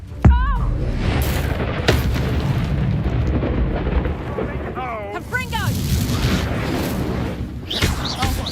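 A booming spell explosion in the Hogwarts Legacy video game, a sharp blast at the start followed by rumbling game effects and combat noise, with a player's voice calling out over it.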